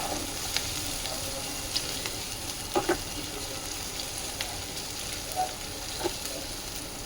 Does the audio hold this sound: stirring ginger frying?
yes